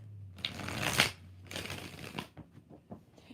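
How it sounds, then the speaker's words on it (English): Tarot cards being shuffled by hand, two quick riffling bursts of papery flutter, close and fairly quiet, followed by a few soft taps and rustles as the deck settles. "2 more shuffles."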